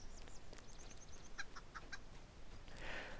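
Chickens cluck in a farming video game, a few short clucks and chirps, faint against quiet low background noise, with no talking.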